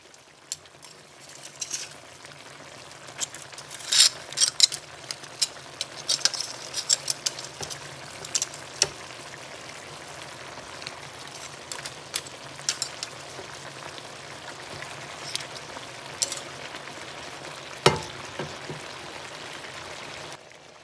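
Fish frying in a pan of oil for Jamaican brown stew fish, a steady soft sizzle with scattered crackles and pops over roughly twenty seconds, fairly quiet and with no talk.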